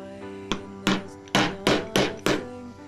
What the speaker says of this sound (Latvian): Ņemam āmuru